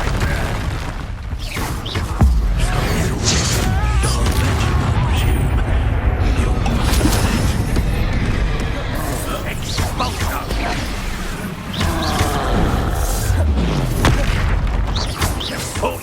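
Fire spell cast in the Hogwarts Legacy video game during a duel: a loud, dense fiery burst with booming low rumble, sustained and crackling through the clip amid layered combat effects and voices.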